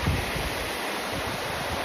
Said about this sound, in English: This is a beautiful, beautiful river that empties down into the lake